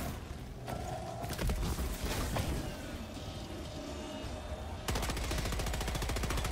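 Stalwart machine gun in Helldivers 2 firing rapid sustained bursts, loud and close, ending in a fast even rattle of shots amid battle noise.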